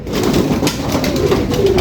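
Pigeons coo steadily nearby, low soft burbling calls repeating without pause, loud and close.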